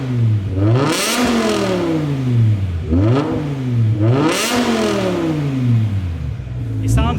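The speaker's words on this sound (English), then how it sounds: "So we're gonna start the car up with no back boxes." A loud BMW E60 M5 V10 engine with an Eisenmann race exhaust and no back boxes revs up and down in repeated surges, its deep exhaust note rising and falling about three times, close by and continuous.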